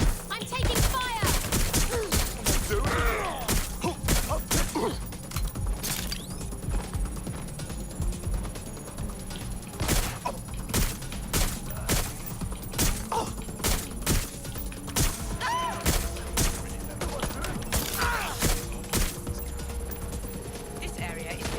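Gunfire in the video game Watch Dogs Legion cracks out in rapid, loud, repeated volleys throughout, with dense bursts close by over constant game noise and voices talking.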